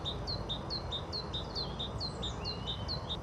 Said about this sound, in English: here is the largest of the tits, the great tit